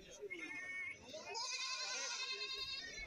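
Goat kids bleating at a goat market in Kerala, several high wavering cries that overlap and run almost continuously, close and fairly loud over a murmur of market noise.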